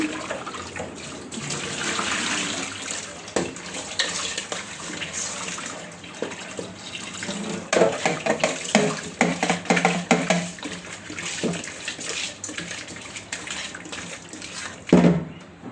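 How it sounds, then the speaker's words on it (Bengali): Tap water runs steadily into a sink while prawns and fish are washed, with splashing and handling sounds rising and falling throughout, fairly close. "তারপর চিংড়িগুলো ধুয়ে পরিষ্কার করে নিলাম"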